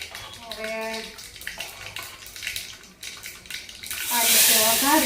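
Spices and asafoetida crackle and sizzle in hot oil for a sambar tempering, a steady frying hiss that swells louder near the end, with a voice briefly speaking over it.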